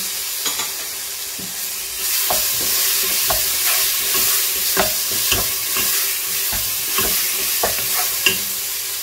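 Pilau frying in a pot sizzles and hisses steadily as a spoon stirs it, with repeated close scraping strokes against the pot over a continuous loud frying hiss.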